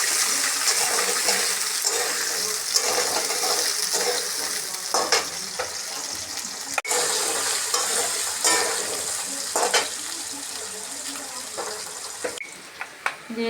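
Small potatoes fry and sizzle steadily in hot oil with cumin and nigella seeds in a pan, with repeated scraping stirs throughout and no talking.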